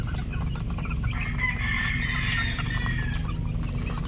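Month-old chicks in a small outdoor range area cluck and chirp steadily over a low, constant background rumble, with no talking.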